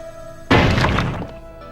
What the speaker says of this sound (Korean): 그러고 보니 주한나가 갖고 있던 도끼가 이걸로 이 문을 부술 수 있나?